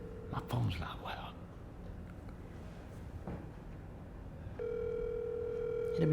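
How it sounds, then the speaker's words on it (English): A phone call rings out and is then forwarded to an automated voice message: steady tonal ring bursts come from a phone held away from the microphone, faint under room noise, with a tone sounding near the end. "Your call has been forwarded to an automatic."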